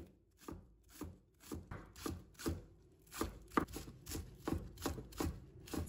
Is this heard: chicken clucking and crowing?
no